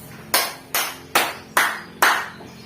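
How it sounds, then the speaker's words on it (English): Science class clapping in unison for a presenting group, five sharp, evenly spaced group claps, each crisp and loud with a quick decay, in a quiet room with no talking. "let's give group 1 a 5 claps"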